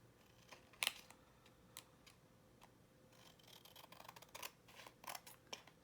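Close, crisp snips of scissors trimming a paper element for a handmade sunflower-themed journal, a handful of short cuts spaced unevenly, quiet and alone in a still room.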